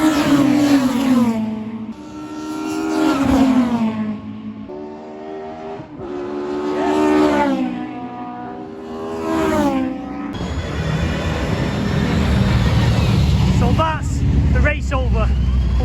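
Race cars, including a Vauxhall Cavalier GSi classic touring car, rev and accelerate hard at a race start at Oulton Park. Engines rise through repeated gear changes, nearby and loud, and give way to a dense roar of the pack pulling away.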